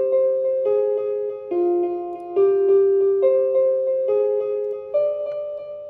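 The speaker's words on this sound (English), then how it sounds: "But once I add in the delay, that changes it a lot." A piano melody in a beat with a delay effect on it, plain sustained notes stepping through a slow repeating phrase, each note trailing into echoes, clear and alone with no talking.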